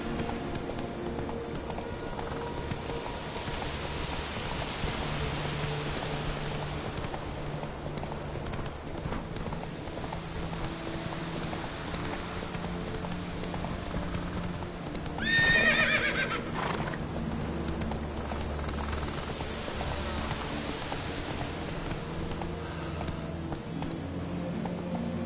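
Roach, the horse from Witcher 3, gallops in the rain with a continuous clip-clop of hooves over a soft wet hiss, and a sharp neigh cuts through midway.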